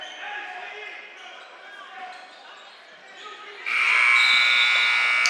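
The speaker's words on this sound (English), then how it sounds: "And there's the buzzer." Crowd noise and gym chatter carry on at a varsity boys basketball game, then a loud, sustained electronic buzzer sounds and holds to the end.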